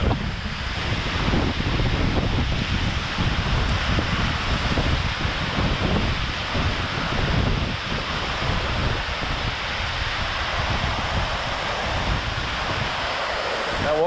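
Wind gusting across Brook Falls on the Olympic Peninsula, driving spray around, heard as loud, steady broadband roar of rushing water and buffeting wind noise on the microphone for the whole stretch, with no talk.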